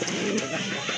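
A single male pigeon of a show breed coos softly in a short, low, steady murmur with faint bird sounds around it and no talk.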